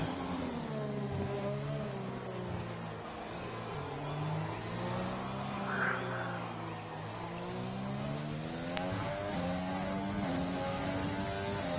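An F3 race car on a hot lap at a Vietnam circuit in a racing game, its engine droning continuously with layered harmonic sweeps rising and falling through gears, steady and loud, with no voices.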